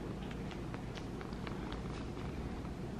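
Pet cat purring up close, a low continuous rumbling drone with soft rhythmic pulses, steady and quiet throughout.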